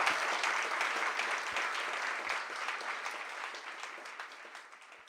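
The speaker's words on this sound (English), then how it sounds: "All right, one more round of applause, right?" An audience at a bookstore author reading gives a warm round of clapping that starts full and gradually thins and fades toward the end.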